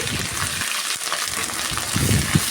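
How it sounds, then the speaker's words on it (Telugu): Spices and curry leaves crackle and sizzle in hot oil for a tempering, a steady frying hiss with brief pops and stirring, close by with no talking. "ఫ్రై అవనివ్వాలండి ఇలాగా పోపు పెట్టుకోవాలి"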